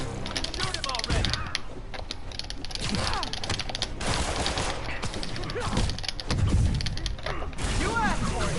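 Gunfire in the Spider-Man PS4 game, scattered shots and mechanical clatter mixed with fight effects and game voices throughout, at a moderate level.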